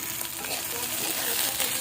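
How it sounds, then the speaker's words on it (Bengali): Potatoes and tomatoes fry in oil while being stirred in a pan for a village-style dish, producing a continuous close sizzle with soft scraping stir sounds. "তারপরে নেড়ে ছেড়ে টমেটো আলুগুলো আর একটু ভাজা ভাজা হবে"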